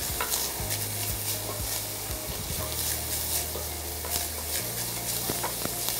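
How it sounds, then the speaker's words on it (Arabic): Minced meat and onions fry in a pan, a steady close sizzle with repeated stirring scrapes throughout. "هلا عم نقلي اللحمة والبصل"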